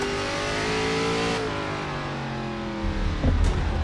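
Simulated Dodge NASCAR race car at Watkins Glen in iRacing, the engine roaring loud and close as it winds up through a gear, drops pitch on a shift or lift, then growls back louder as it accelerates, with no talking.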